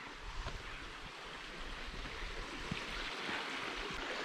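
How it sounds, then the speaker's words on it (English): The Darios river, among the fastest flowing in Cyprus, rushes beneath an old bridge near a village, a steady broadband wash of water mixed with wind buffeting the microphone, heard from a distance without talk. "running underneath this beautiful bridge is the second fastest flowing river in Cyprus, the Darios."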